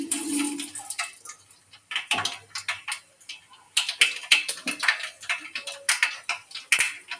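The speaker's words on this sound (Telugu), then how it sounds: "తర్వాత ఇందులో ఆవాలు కొద్దిగా వేసుకోవాలి." Mustard seeds crackle and pop in hot oil in a kadai, giving dense, irregular sharp crackles throughout with brief louder bursts, close and alone without talk.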